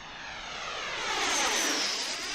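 A model aircraft making a fast flyby over the runway, its engine a high, rising and falling whine that swells as it passes close and then fades slightly. No voices are heard.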